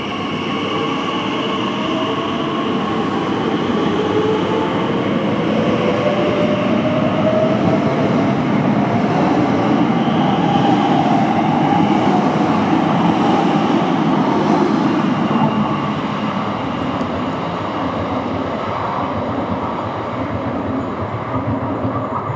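A London train pulls into the platform at Custom House station, a steady loud rumble of wheels and carriages with faint squeal and clatter throughout, no voices over it.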